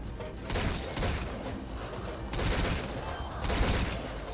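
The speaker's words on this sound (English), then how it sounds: "Just machine gun. Go forth and machine gun." Machine guns fire in short bursts in the video game Metal Gear Survive, rattling fusillades coming in several separate volleys, loud and dense, with no talking over them.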